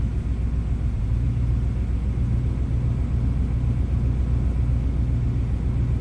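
Rebuilt Ford big block V8 idling with a low, steady rumble after a hard start, the throttle given only a little gas, so the sound stays even and droning throughout.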